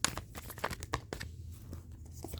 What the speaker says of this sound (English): So I'm going to give the deck a few shuffles